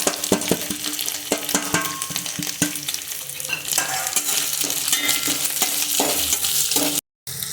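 Peanuts sizzle loudly in a pan for sabudana khichdi while a spoon stirs them, clattering strokes over a dense frying hiss, close up and with no speech.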